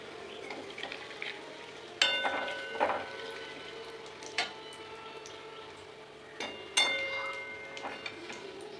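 Whole garam masala and cumin seeds hit hot oil in a pan, giving a steady close sizzle and crackle with a few sharp pops and clinks of a utensil against the pan.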